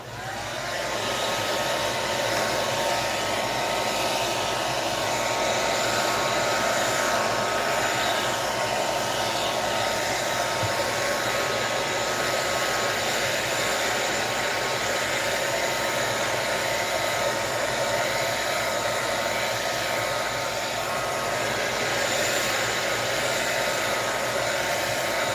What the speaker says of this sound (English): If you don't want to hear the dryer